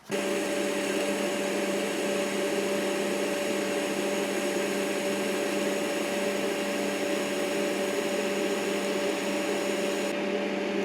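A bench grinder regrinding a TIG welder tungsten tip, a steady continuous whine with strong tonal hum and broadband hiss, constant and fairly loud throughout, with no talk.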